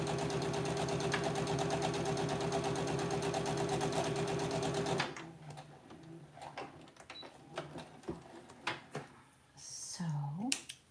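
A sewing machine stitching quilt pieces runs in a steady fast whirring rhythm for about five seconds, then stops, leaving quieter handling noises and brief talk.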